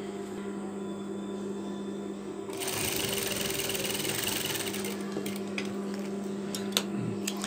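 A sewing machine stitches a Turkish half double-breasted coat, a low steady motor hum that bursts into a loud, rapid mechanical whirr of stitching partway through, close up, with a few small clicks near the end.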